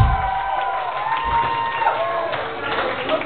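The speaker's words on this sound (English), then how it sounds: "Give them a nice little round of applause," A theatre crowd at a rock concert at the Recher Theatre cheers and applauds in a steady, muffled roar, with voices mixed in.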